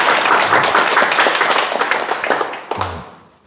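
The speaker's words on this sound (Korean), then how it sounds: "축하 박수" An audience at a Sunday lecture gives congratulatory applause, a dense burst of clapping that holds for a few seconds, then thins with a last few claps before fading out.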